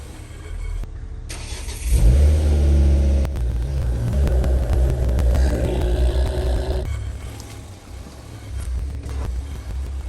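A Ford Focus starts up and is driven into a garage, its engine rumbling and revving nearby before settling into a lower, steady hum.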